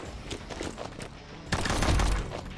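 Rapid bursts of automatic gunfire from the Combat Masters shooter game, choppy and close with a heavier sustained volley in the second half.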